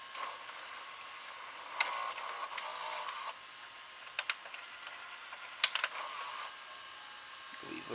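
A Sharp VC-H992 VCR whirs in reverse search, its tape mechanism making a busy high buzzing hiss broken by scattered mechanical clicks and ticks, heard close up.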